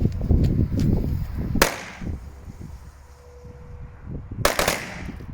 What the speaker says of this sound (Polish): A teraz słoneczko z pozostałych dużych petard.